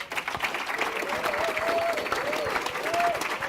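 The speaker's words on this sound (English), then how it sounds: "Round of applause." Steady applause from an audience at an E3 2014 Q&A fills the clip, dense and continuous, with a few faint voices mixed into the clapping.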